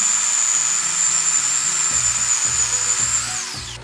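A toy chainsaw cutting logs gives a thin, high electric whine with a rattling, buzzing motor that pulses in short repeated strokes, close and fairly loud, winding down at the end, with no talking.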